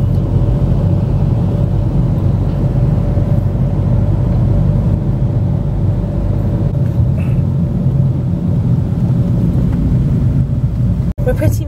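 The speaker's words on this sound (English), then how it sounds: "This is what London traffic is like." Inside a car in London road traffic, a steady low rumble and whir carries on continuously and fairly loudly, with a brief sharp knock near the end.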